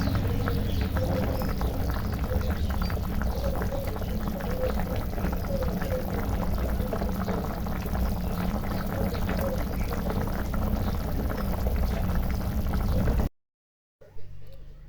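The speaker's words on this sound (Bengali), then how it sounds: "ট্যাংরা মাছটা ঝোলও দিয়ে দিয়েছি, বলকও চলে এসছে।" Tengra fish curry boiling in a pot: a steady, close bubbling and simmering hiss that runs evenly for a long stretch, then drops out abruptly near the end.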